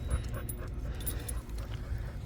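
A dog refusing to keep walking whimpers and pants softly, with faint jangling nearby, in a short quiet stretch without speech.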